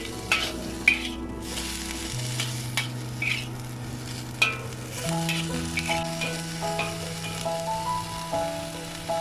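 Bok choy stir-frying with ginger in a hot wok, a steady close sizzle broken by clanks and scrapes of the utensil as the vegetables are tossed, with a low hum underneath.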